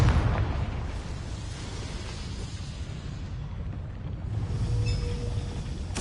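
The Confringo spell explodes in the video game Hogwarts Legacy as a low, sustained rumbling boom that rolls on for several seconds and swells slightly again near the end.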